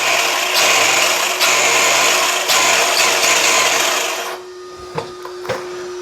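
A Rlaarlo XTS-P12 rally RC car accelerates on a track, its electric drive giving a loud, steady high-pitched whine with gritty rasping that surges in a few pulses, then cuts off, leaving a faint hum and a couple of light clicks.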